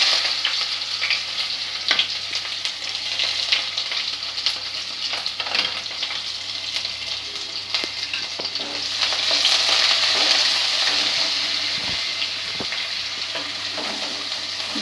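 Onions with bay leaf, cardamom and cloves sauté in hot oil for a ghugni, crackling and hissing loudly and steadily, with scattered scrapes and taps of stirring that swell in intensity midway.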